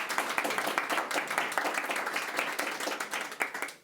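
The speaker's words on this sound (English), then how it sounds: "So give them a nice round of applause to get them going" A room audience claps to welcome panelists at an AI conference session in Davos, crisp individual claps blending into moderate applause that thins out toward the end.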